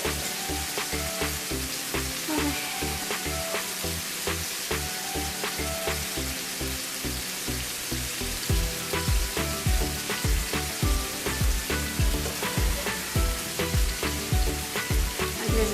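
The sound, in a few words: chicken pieces frying in a pan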